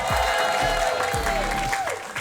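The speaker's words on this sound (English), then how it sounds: "Clap it up for Shed G." Audience clapping and cheering at a comedy show, a continuous crowd roar with music and a voice sliding over it, sustained for the full two seconds.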